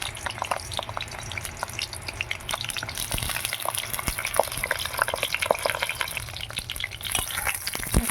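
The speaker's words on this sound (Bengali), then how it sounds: "পটলগুলো তেলে ছেড়ে দিলাম" Pieces of pointed gourd fry in hot mustard oil in a heated kadai, giving a steady close sizzle with scattered crackles and pops throughout, with no talking.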